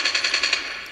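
Automatic gunfire in the mobile shooter game Call of Duty Mobile rattles off as a quick burst of about six rapid shots, then fades out in a brief tail.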